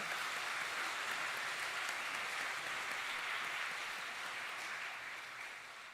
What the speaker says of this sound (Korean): 다시 한번 박수했으면 좋겠습니다.